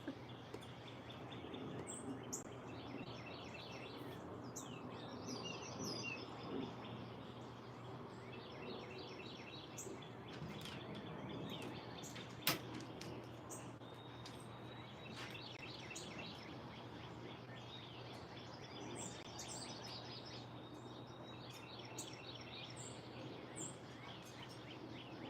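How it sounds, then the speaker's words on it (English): Birds sing at sunrise in Charlotte, with repeated chirping phrases and calls at moderate distance over a steady low background hum and faint insect sounds, one sharp click midway. "The birds are certainly just as loud here as they are at home"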